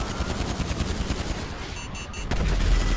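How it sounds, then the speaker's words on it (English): A missile barrage in GTA 5 Online pounds away with rapid, dense gunfire-like bursts and booms, loud and continuous, with heavier low-end impacts near the end. "Can you even hear me over the constant barrage of missiles?"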